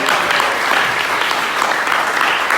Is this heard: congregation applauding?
yes